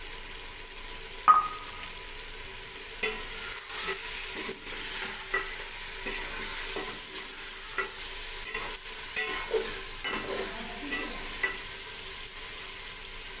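Green onion and green chillies frying in a pan: continuous close sizzle with repeated stirring scrapes and occasional clatter of a spoon against the pan, no talk.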